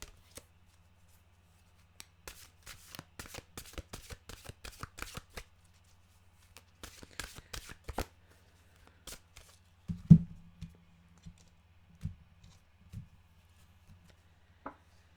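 Oracle mantra cards being shuffled, several rapid riffling bursts and soft flicks near the microphone, followed by scattered taps and a card being set down, with no talking.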